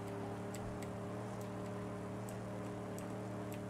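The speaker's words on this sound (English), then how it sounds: "this car does sound like it could do with a bit of an upgrade to the engine" A steady, droning car engine idles or cruises in the Mad Max game, a rough, humming tone with strong low harmonics that holds evenly throughout, broken by faint periodic clicks.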